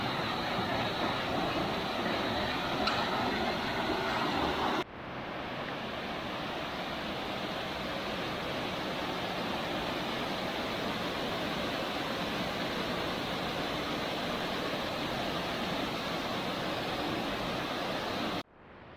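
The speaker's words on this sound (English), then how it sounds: "here we are at Boulder Falls" Boulder Falls, a waterfall on a creek trail, roars as a steady, loud broadband rush of falling water, continuous and unbroken for the whole stretch with a slight drop in level partway.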